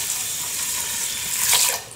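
Water poured into a cooking pot for rice pudding, a steady broadband splash running for about two seconds and swelling slightly near the end, close and fairly loud with no voices.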